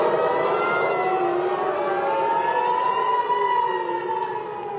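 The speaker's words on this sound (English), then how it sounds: "Warning signs in Israel for waves of incoming missiles from Iran" A wailing air raid siren in Israel warning of incoming Iranian missiles rises and falls in long, sustained tones, distant and echoing across open space, steady and loud throughout.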